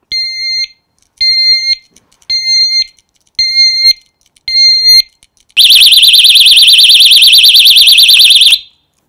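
A loud 120-decibel Securage motorcycle lock alarm: five sharp, evenly spaced beeping pulses, then a continuous piercing warbling siren for about three seconds before cutting off.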